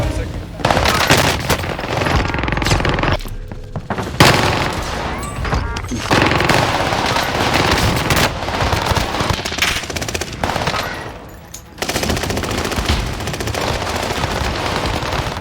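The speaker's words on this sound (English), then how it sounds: "the PPSH. Well, we have a lot of those on this list, and this is not the last one. And it had the fastest firing rate out of all the SMGs in Warzone history" PPSh submachine gun in Warzone firing in rapid, loud sustained bursts with brief pauses between volleys, with some voice underneath.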